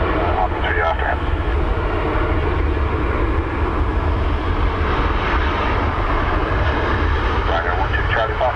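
Airliner landing at Dublin Airport in crosswinds, a steady engine roar that holds throughout, with faint radio-style voices in the background.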